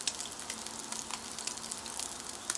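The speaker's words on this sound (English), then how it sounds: "I'm frying the ham in some" Ham frying in oil in a pan gives a quiet, steady crackle, with scattered small pops spread evenly through a short stretch.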